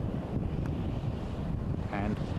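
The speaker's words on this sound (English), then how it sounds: "Little bit of wind." Steady wind buffets the microphone during the landing of a Piper Cherokee 150 light aircraft on a first solo flight, a continuous loud low rumble throughout with a brief brighter noise near the end.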